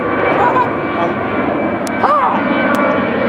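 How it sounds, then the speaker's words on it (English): A small jet aircraft roars steadily nearby, a loud broad engine wash filling the scene, with a voice briefly sounding over it. "We've got a little jet. That's my ride"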